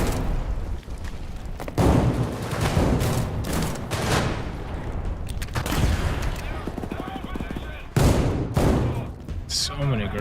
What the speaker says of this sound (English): Trying the good old shotgun.